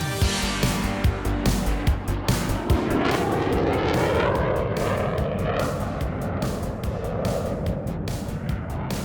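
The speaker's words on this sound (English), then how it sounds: "we began our takeoff run" A fighter jet engine roars loud and steady through the takeoff run at St. Petersburg Clearwater International Airport, a broad rising rumble with whining tones heard from inside the aircraft.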